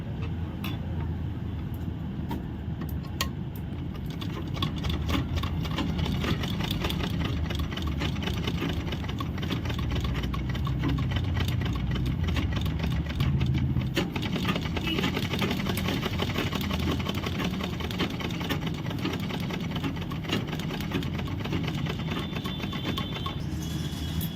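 A sewing machine runs steadily for a long stretch, stitching a homemade fabric handbag; the motor hum and rapid needle ticking stay close and even, with no voices.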